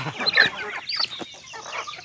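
Backyard domestic chickens, including bantam chicks and tethered fighting cocks, give a steady run of overlapping clucks close at hand, busiest early and softening toward the end.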